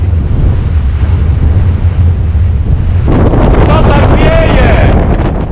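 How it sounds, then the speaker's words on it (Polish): Strong mountain wind roars across the open slope of Śnieżka, a loud continuous buffeting rush battering the microphone that grows harsher and more turbulent in the second half. "Wielki huk, generalnie wiatr."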